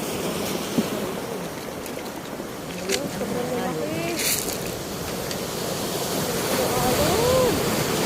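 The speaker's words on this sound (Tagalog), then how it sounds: "Abot pala dito. Malaki ng alon eh." Large ocean waves at Baler, Aurora, in the Philippines rush and churn in a steady wash of surf, with a few short spoken words heard over the water.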